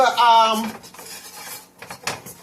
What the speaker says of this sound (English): Get that stirred up pretty good